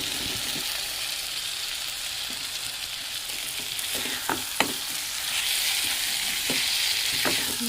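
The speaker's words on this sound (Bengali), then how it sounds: "এবার সেদ্ধ করে রাখা আলুগুলো দিয়ে দেবো" Boiled potatoes frying in spiced egg curry masala with turmeric, a continuous sizzle broken by a few sharp utensil scrapes and knocks as they are stirred, close and without speech.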